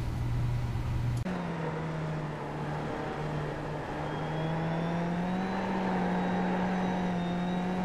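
A Skip Barber race car in the iRacing sim at Suzuka holds a loud, continuous engine drone at full throttle, its pitch climbing slowly after a quick upshift early on, with no voices.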